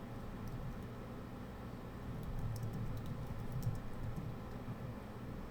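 Faint, rapid tapping on a computer keyboard, a brief scattered run of light clicks under a steady background hiss and low hum.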